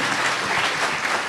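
Steady applause from a crowd at a Christian crusade gathering in Bern, Switzerland, a loud continuous wash of clapping filling the whole moment with no voices above it.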